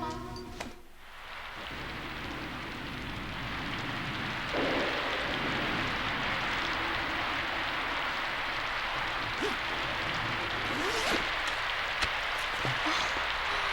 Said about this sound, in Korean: 비가 많이 올 모양인데?